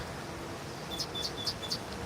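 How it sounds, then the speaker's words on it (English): A bird chirps outdoors near Devil's Slide in Utah, four or five short, high, thin tweets in a quick, evenly spaced run, sounding small and a little distant over a steady wind-like background rush. "Don't know where that bird went"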